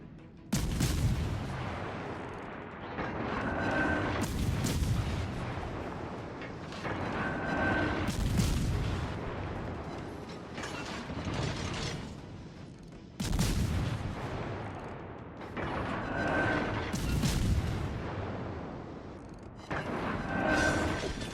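Destroyer guns firing in World of Warships Legends, loud booming salvos in repeated bursts every few seconds over a mechanical rumble.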